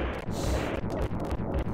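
Krang blowing up in the SNES game TMNT IV: Turtles in Time, a dense, continuous burst of loud crunching blasts and rumble that fills the whole moment, with no voices on top.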